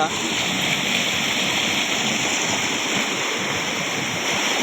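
A river swollen into flood after heavy rain in the Konkan countryside rushes past in a constant broad roar of flowing water, steady and enveloping throughout.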